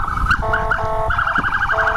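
Ambulance siren wailing in a rising and falling warble, loud and close with steady traffic rumble beneath, sounding continuously throughout.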